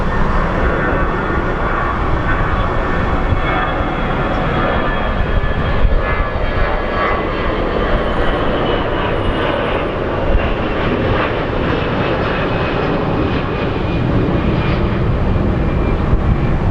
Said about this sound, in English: This is going to be a very smoky landing